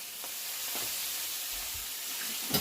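Steady sizzling hiss of apples frying in a hot pan after a splash of cold water, with faint soft stirring clicks, continuous and moderately quiet.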